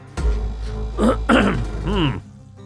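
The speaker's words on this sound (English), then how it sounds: "coughing and sneezing and clearing my throat today" A man clears his throat and gives a few short coughs up close, in separate bursts, over a low steady hum from a spaceship salvage game.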